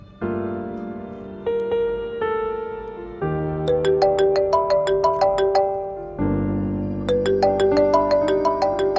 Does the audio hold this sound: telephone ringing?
yes